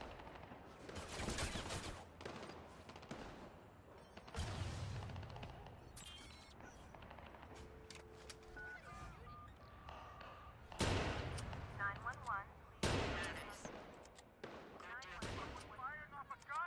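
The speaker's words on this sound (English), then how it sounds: "Firing off a gun! Help! Someone's shooting!" Gunshots in the Watch Dogs 2 city streets, several sharp loud cracks and bursts spread through the scene amid ambient city noise and shouting voices.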